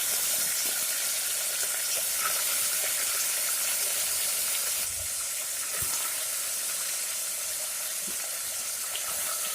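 Washed potatoes and onions tipped into a hot pan for hotel-style poori masala, a loud continuous hiss of sizzling with a couple of soft knocks and no speech.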